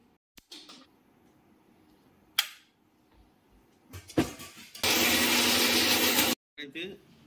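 A kitchen blender grinds green chillies, garam masala and a little water into a spice paste, running loud and steady for about one and a half seconds after a few short bursts and clatters.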